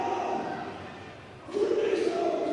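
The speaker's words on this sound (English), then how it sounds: "The crowd is very loud in here right now." A loud indoor crowd roars and cheers during a strongwoman stone-loading event, a steady wall of voices that swells sharply louder partway through.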